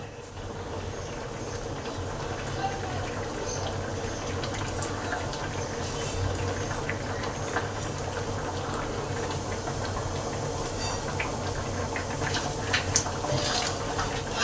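Gravy for a fish roe kofta curry boils hard on high heat, giving off a continuous, even bubbling rumble that holds steady throughout with no speech.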